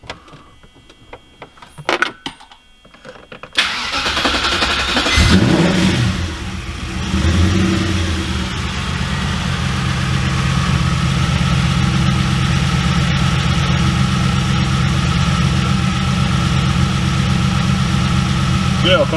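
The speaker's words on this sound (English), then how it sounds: "there really is not that much movement from this engine, like from the vibration. It's running." A Porsche Cayman with a V8 engine swap, sitting on a workshop ramp, cranks and fires after a few seconds of quiet. It then settles into a loud, steady, close idle that hums on without a break.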